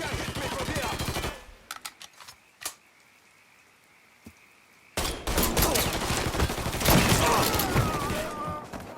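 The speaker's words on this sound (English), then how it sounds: "Fucker won't stop shooting!" Automatic gunfire in Mafia 3 rattles in heavy bursts and then drops to a few isolated shots. A long, loud, dense fusillade follows.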